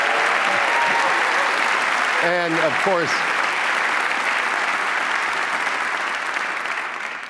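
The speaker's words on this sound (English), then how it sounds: "I expect a big applause." Sustained applause from an audience at a city State of the City address, loud and steady throughout, with a brief spoken phrase over it near the start.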